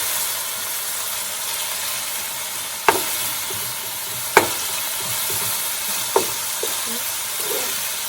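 Chicken pieces for jalfrezi frying in a pan on a stove at medium-high heat, giving a steady close hiss of sizzling oil broken by a few sharp clicks and taps from a utensil, with no talking.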